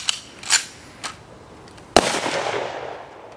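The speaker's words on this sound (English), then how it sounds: "Firing party, ready, place." A funeral firing party fires a rifle volley at a graveside service: a few faint sharp cracks early on, then one loud close report that trails into a long rolling echo.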